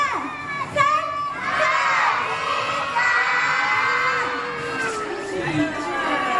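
A crowd of children at a live superhero meet-and-greet show shouts together, loud and sustained, with excited cheering voices filling the whole stretch.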